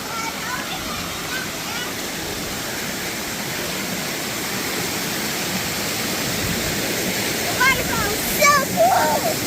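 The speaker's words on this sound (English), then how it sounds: "Let's go walk over here and look at the waterfall" Waterfall in Ohio, a steady broadband rush of falling water heard close by, with children's and adult voices talking over it toward the end.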